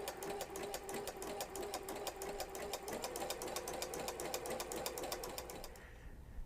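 A sewing machine runs a decorative zigzag stitch that forms a flower pattern, a steady fast mechanical chatter heard up close and alone for about six seconds before cutting off.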